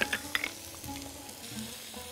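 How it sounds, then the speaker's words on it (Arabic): Onion and garlic fry in oil with a close, steady sizzle, with a few sharp crackles and stirring scrapes in the first half-second. No voices are heard. "زيت، حبة الزيت ننزل عليهم بالبصل والثوم"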